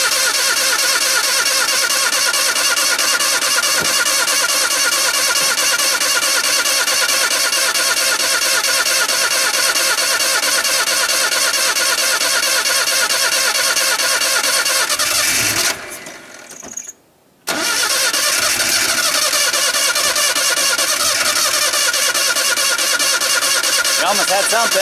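A wood-gas-powered truck engine that runs on firewood cranks over and over in a loud, rhythmic churn. The cranking breaks off briefly and then resumes as the engine tries to start.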